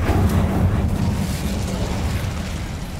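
Incendio fire spell cast in Hogwarts Legacy, a loud, rumbling burst of fiery whoosh with an explosive low boom that settles into a crackling roar over three seconds.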